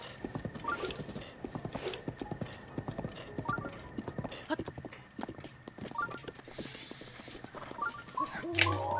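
Horse hooves clip-clop in The Legend of Zelda: Breath of the Wild, a quick, steady rhythmic trot of hoofbeats with light game ambience and a brief sharp effect near the end.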